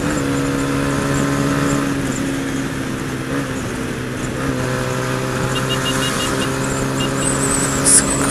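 Honda PCX scooter riding along a highway, its engine giving a steady droning hum with strong tonal harmonics and constant wind rush, rising slightly toward the end.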